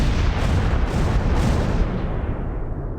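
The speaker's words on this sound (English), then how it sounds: "The lead Sturmgeschütz now comes under fire from 3-3. And is destroyed." Battle gunfire and explosions from the Close Combat 4 war game as a Sturmgeschütz assault gun comes under fire and is destroyed; a dense, loud rumbling barrage that fades out toward the end, no speech.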